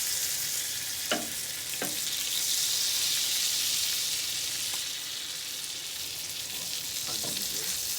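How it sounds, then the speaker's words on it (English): Onions sizzling on a hot griddle under a smash burger being pressed down, a steady broad frying hiss throughout, with a few brief scraping knocks from the spatula. "Onions on there. We're going to press those down over the bottom."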